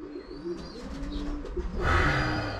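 Racing pigeons coo softly and repeatedly nearby, low throaty calls rolling one after another, followed by a burst of rustling or flapping.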